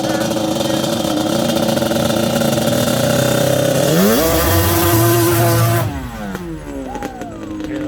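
A Banshee ATV engine screams at high revs and then climbs in pitch as the throttle opens before dropping away, heard loud and close with a faint voice toward the end.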